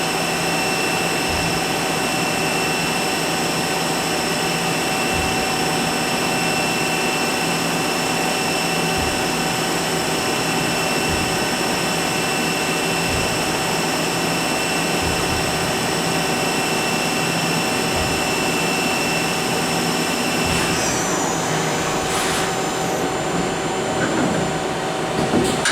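A Hardinge Quest 8/51 two-axis CNC lathe with live tooling and tailstock machining a part, giving a steady loud hum and whine with sustained tonal lines and faint periodic thumps, and a brief pitch shift near the end.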